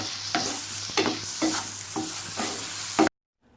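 Chicken pieces roast in a hot pan, a continuous sizzle broken by regular scraping strokes as a utensil stirs them about every half second, close and loud before cutting off abruptly to silence.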